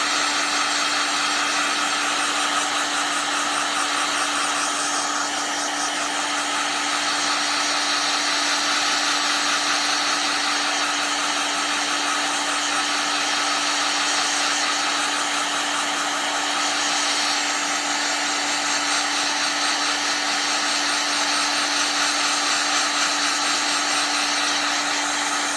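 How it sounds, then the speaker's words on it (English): A hot air tool blows steadily to shrink heat shrink tubing while an old Penguin is repaired, a loud constant whooshing roar with a fixed whine running unbroken from start to end. "Want to shrink all of the heat shrink."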